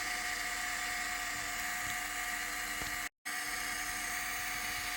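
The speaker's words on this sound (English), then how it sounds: "a way to describe it as a rattly squeal" Litter-Robot 3 litter box motor running with a steady, rattly high-pitched squeal and chatter, continuous and close, broken by one brief dropout.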